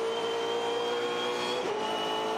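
A Volvo S60 Supercar races in the 2016 Supercars championship, its engine a loud, sustained high-pitched drone held at steady revs, with a brief dip near the end as it passes.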